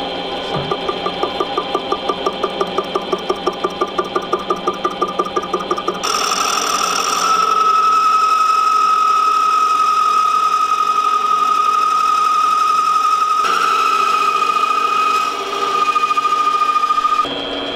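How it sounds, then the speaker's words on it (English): A lathe cutting a titanium and gold wedding ring, first a rapid rhythmic chatter, then a steady high whine from the cut that holds loud and continuous, with no talk. "we're using the caliper set to 2 2/3 to create a dividing line between each of the segments so we can use the lathe to cut out the center"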